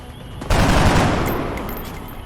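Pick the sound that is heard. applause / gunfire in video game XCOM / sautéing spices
gunfire in video game XCOM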